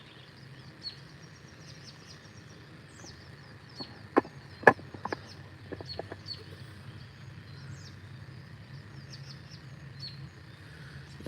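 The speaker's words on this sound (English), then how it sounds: "Y'all hear the birds singing? They all singing this morning." Morning birdsong in a quiet neighborhood, faint scattered chirps and calls over a soft steady background hum, with a few louder sharp clucks or snaps near the middle.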